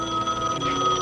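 A telephone rings with a steady electronic bell tone, brief and fairly close.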